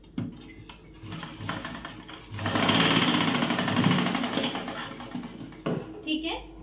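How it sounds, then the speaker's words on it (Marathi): A sewing machine stitches the top seam of a blouse sleeve, its rapid mechanical whirring loud and close for a few seconds in the middle, framed by short bursts of lighter machine sound and quiet talk before and after. "वरची टीप करून घेते मी."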